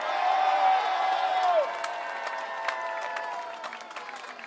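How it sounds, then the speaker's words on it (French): A street crowd at a protest rally in Limoges claps loudly for rural mayors, sustained dense applause that fades gradually, with a whistle-like tone early on and scattered voices beneath. "On peut les applaudir très fort."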